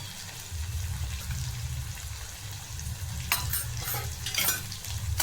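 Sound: sautéing chopped coriander and misal masala in a pan

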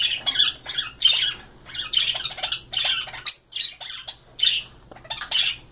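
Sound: pet birds squawking while fighting

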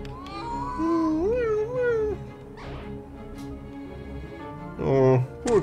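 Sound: cat meowing in the video game A Space for the Unbound

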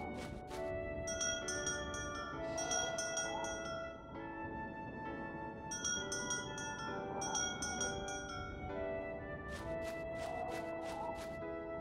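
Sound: bell ringing in Harvest Moon video game

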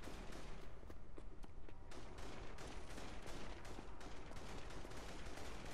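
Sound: gunfire in the video game inFAMOUS Second Son

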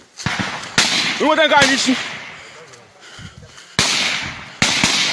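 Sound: gunfire being shot

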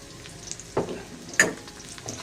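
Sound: garlic and onion stir-frying in a pan

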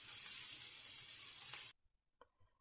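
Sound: meat sizzling while frying in pan

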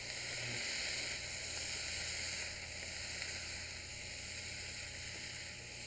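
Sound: snow pea, rice and vegetable stir fry sizzling in a wok

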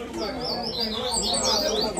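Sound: caged papa-capim seedeater bird singing at a competition

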